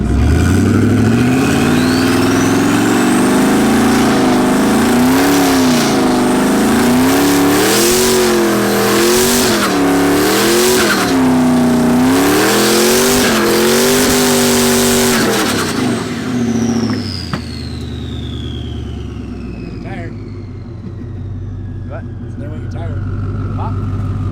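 A tuned, turbocharged Ford Crown Victoria burnout car revving on and off, its loud engine note rising and falling in repeated pulses before dropping back to a lower, quieter running sound.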